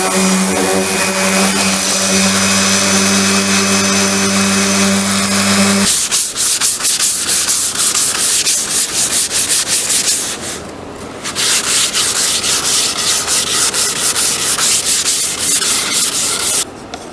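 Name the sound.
sanding wooden tool box drawer fronts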